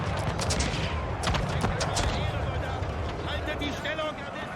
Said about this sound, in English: The flanking volley is just brutal.